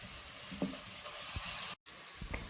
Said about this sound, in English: add 2 tablespoons grated ginger and saute for 2 minutes